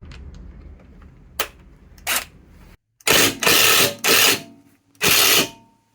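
A 14 mm socket ratchet unscrewing the stabilizer bolts on a Subaru, sharp close ratcheting clicks in a few short bursts, then longer loud buzzing runs of clicking.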